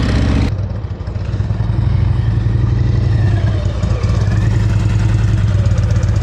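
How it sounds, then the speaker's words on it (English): A motorcycle engine runs at low speed during slow-speed riding practice while the rider slips the clutch, making a loud steady rumbling drone with slight fluctuations in revs, close by. "Yeah, you're burning your clutch out."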